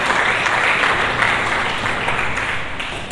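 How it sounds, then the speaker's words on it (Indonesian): A church congregation applauds during a sermon, a dense, steady wash of many hands clapping together that holds for a few seconds before easing off slightly. "Berikan tepuk tangan yang meriah."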